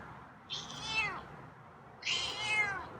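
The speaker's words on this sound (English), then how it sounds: "Wow, got some meows today." A cat meows twice at a door, two drawn-out, fairly loud calls about a second and a half apart, close by with no talk.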